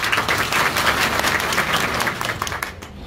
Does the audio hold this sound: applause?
yes